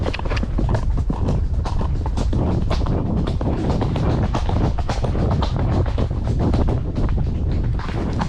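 A horse cantering along an outdoor ride-out path, hooves striking in a quick, steady rhythmic beat, loud and close, with strong wind buffeting the microphone throughout.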